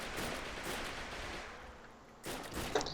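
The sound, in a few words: gunfire in the video game Heroes and Generals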